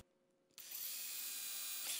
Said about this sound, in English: I will drill pilot holes for the nails.